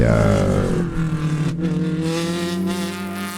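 A purple Mazda Miata race car, number 69, roars past at Sebring, loud engine note dropping in pitch as it goes by, then a steady fading drone.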